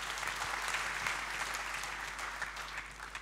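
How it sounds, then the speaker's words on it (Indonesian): Steady applause from a large church congregation clapping together during a Christmas worship service, sustained throughout and gradually easing toward the end. "Tepuk tangan bagi dia."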